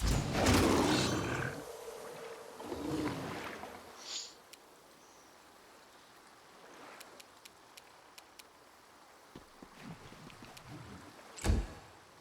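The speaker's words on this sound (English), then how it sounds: "It's a huge-ass water elemental." A huge water elemental in the video game Pathfinder: Wrath of the Righteous lets out a loud, rough roar at the start, then a second smaller roar, followed by quieter rumbles and sharp clicks, with a loud burst near the end.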